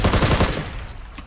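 A short, loud burst of rapid automatic gunfire from the online shooter video game R.O.E. (Ring of Elysium), several close shots fired in quick succession before fading away.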